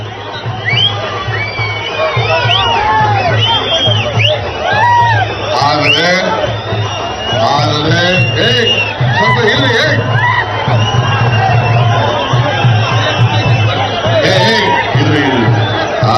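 Large crowd at a political rally in Kolar, cheering, whooping and shouting continuously throughout, with a steady babble of many voices and a speaker's voice heard over the noise.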